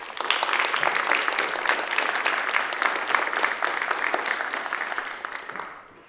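An audience at a Harvard engineering school lecture applauds to welcome the speaker, a dense steady wash of clapping for several seconds that fades out at the end.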